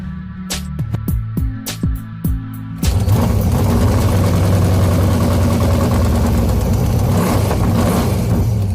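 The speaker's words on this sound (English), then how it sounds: "the engine has developed a pretty good misfire" A misfiring 1973 Plymouth Fury engine sputters and stumbles unevenly with sharp irregular pops, then settles into a loud, rough, continuous running roar.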